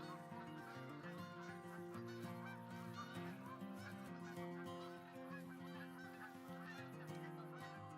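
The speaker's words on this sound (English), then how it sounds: "I wonder if we can sneak up on these geese." Geese honk continuously in a hunting video game, a dense overlapping chorus of many birds sounding steady and fairly faint, as if from a flock some distance away.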